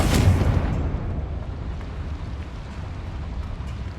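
Confringo, a fire explosion spell in Hogwarts Legacy, lands with a deep booming blast at the start, followed by a long rumbling decay that fades into low background noise.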